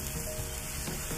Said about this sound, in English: Let that cook right on top of the onions